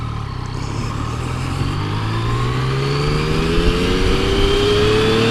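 A Yamaha FJ-09 motorcycle pulls away from a stop, its engine note climbing steadily as it accelerates through the revs, loud and close throughout.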